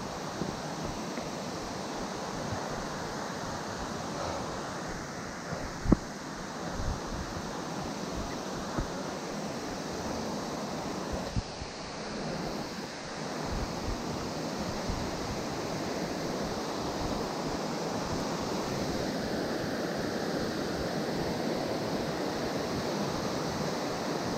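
A steady roar of a waterfall at Reichenstein fills the scene, continuous broadband rushing water with a few faint knocks and bumps nearby.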